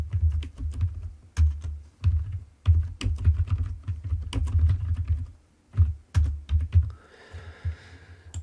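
Rapid computer-keyboard typing while entering data into an Excel spreadsheet, with close, dense clusters of key clicks in uneven bursts and short pauses between them, and a faint hiss near the end.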